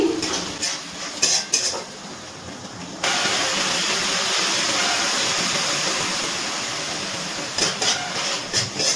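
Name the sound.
ginger garlic paste sizzling while being sautéed with onion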